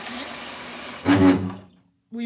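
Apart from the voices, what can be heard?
noisy bathroom sink with running water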